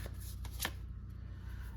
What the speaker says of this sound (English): and then I shuffle again when I'm talking to you.